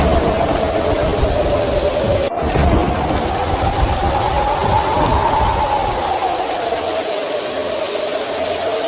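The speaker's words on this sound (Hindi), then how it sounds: "जोर जोर से हवाएं चलने लगती हैं और आसमान में बिजली के साथ तेज तूफानी बारिश शुरू हो जाती है" Heavy storm rain pours with strong wind, a loud, steady hiss of rain that runs through the whole clip under a low, droning wind, with one brief crack and no voices.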